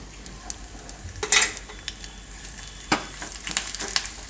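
Hot oil, already tempered with red chillies and curry leaves after the flame is switched off, sizzles sharply as a pinch of asafoetida is added, with a crackling burst followed by steady frying hiss and light stirring clatter.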